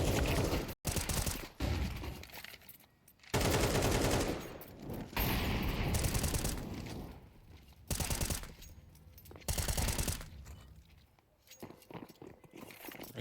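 Bursts of rapid gunfire crack loudly in a Counter-Strike esports match, broken by short pauses and quieter stretches, with several separate volleys in quick succession.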